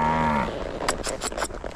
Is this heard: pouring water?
no